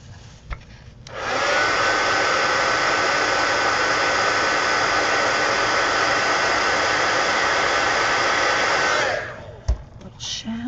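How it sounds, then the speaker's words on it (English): A hair dryer runs close by for about eight seconds to dry a mixed media collage art card. It starts abruptly, holds a steady loud whoosh, and then cuts off, with faint handling noises before and after. "let me dry that"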